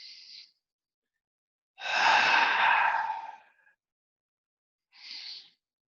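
During a yoga twist, one long, audible breath is exhaled for about two seconds, bracketed by brief, softer breaths before and after, in otherwise silent surroundings.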